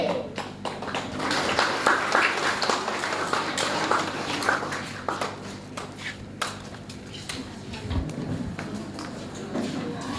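An audience at an Easter celebration of a Christian primary school claps for the children who performed. The applause is broad and sustained and continues steadily, with a faint voice underneath.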